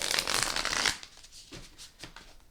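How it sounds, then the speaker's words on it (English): A deck of tarot cards being shuffled up close: one long riffling burst, followed by a few quieter taps and slides. "Give it a couple shuffles."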